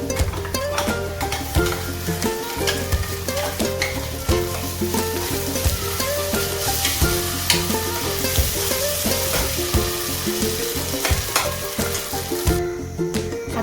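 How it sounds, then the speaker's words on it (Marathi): A ground spice paste hisses and sizzles in oil among golden fried onions for a chickpea masala, with a continuous loud frying sound and repeated scraping stirs close up, no voices. "तर आता हे वाटण सुद्धा आपण या सोनेरी झालेल्या कांद्यामध्ये टाकून घेऊ."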